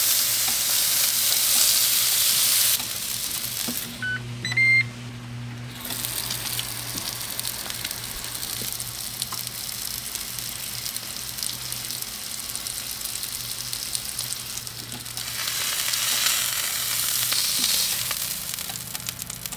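Salmon sizzles on the flat top of a Ninja Woodfire grill, giving a steady close frying hiss with faint stirring and clinking, loudest at the start and swelling again near the end, with no voices.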